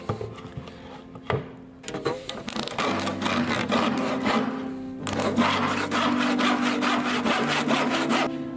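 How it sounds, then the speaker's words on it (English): A handsaw cuts through wood for a school science project, steady back-and-forth rasping strokes running continuously and close up, with a few knocks and scrapes at the start before the sawing settles into rhythm. "I'm going to turn it over and cut it off here."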